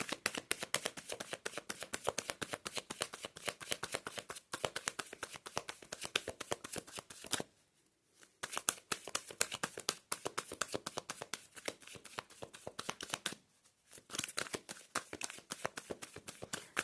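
Tarot cards shuffled by hand in a steady riffling flurry of rapid crisp flicks, continuing for many seconds with two brief pauses between bursts, close and clear with no talk.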